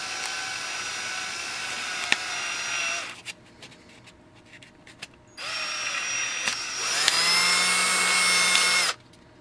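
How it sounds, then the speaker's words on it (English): A power drill bores straight through folded foam tyre inserts for a Chaotic XR10 RC crawler, two whining high-pitched runs separated by a pause with small clicks and handling noises, the second run rising in pitch and louder. "just fold the foams in half and then just drill straight through them"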